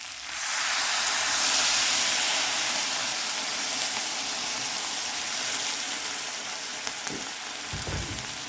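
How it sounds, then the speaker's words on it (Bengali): Warm water poured into a pan of cooking vegetables: a sudden loud hiss and sizzle rises as the water hits, then settles into a steady steamy bubbling with a few stirring knocks near the end. "একটু ওয়ার্ম ওয়াটার দিচ্ছি।"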